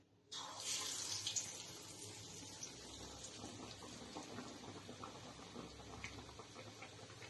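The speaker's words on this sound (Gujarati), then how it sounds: "અને હવે આપણે એને તળવા મૂકીશું" Roti pakoda pieces dipped in besan batter go into hot oil and fry with a sudden loud hiss, then settle into a continuous, crackling sizzle with no voices.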